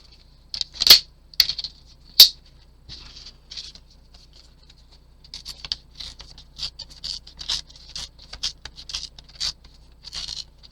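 Paper is torn into strips for decorating a journal, heard as a few sharp, close rips followed by a run of softer crinkly tearing and rustling in quick irregular bursts.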